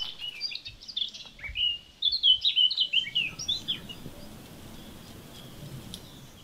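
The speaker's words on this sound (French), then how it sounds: "tous les oiseaux qui chantent" Birds chirp and twitter in overgrown gardens of an abandoned village, several close calls in quick bursts during the first half before a steady soft rustling background takes over, with no voices.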